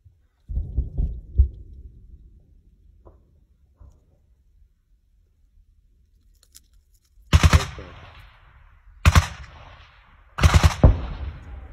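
Three short bursts of rapid machine gun fire on a Ukrainian battlefield ring out, loud and sharp, after a quieter stretch of low rumbling thuds.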